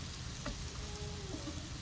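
Vegetarian fish pieces frying in a pan and being turned one by one, a steady close sizzle with faint utensil touches.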